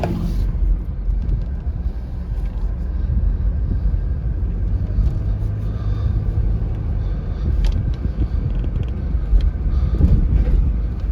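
A 2006 Chrysler Pacifica rolls over a bumpy road, giving a steady low rumble of road and cabin noise with scattered thumps and faint rattles from the front as the tires hit the bumps.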